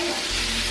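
A burger patty sizzles steadily in a hot pan, a loud continuous fry filling the short stretch with no clear flip sound or voices.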